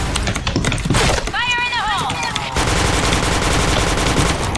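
Rapid automatic gunfire from the first-person shooter Point Blank rattles loud and close in dense bursts, with a brief gap before a steady stream of shots, while a voice calls out in the middle.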